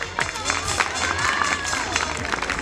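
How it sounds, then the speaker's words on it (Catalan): Audience at a graduation ceremony for a vocational care course applauds continuously, a dense wash of many hands clapping with some murmuring voices mixed in, fairly close and sustained. "Aplaudiu sense parar."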